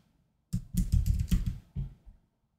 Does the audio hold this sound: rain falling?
no